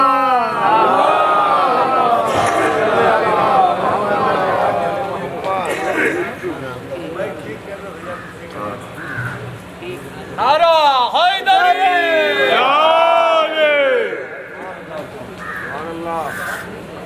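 A large gathering at a religious celebration chants the Naara-e-Haidari slogan loudly, with a swelling roar of many voices followed by rising collective shouts and calls in waves.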